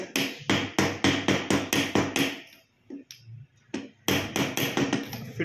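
Repeated sharp metallic taps drive a gear shaft seal into a Honda Splendor engine casing with a plug-type installer tool, about a dozen evenly spaced close hits, a short pause with a few lighter knocks, then another quick run of strikes.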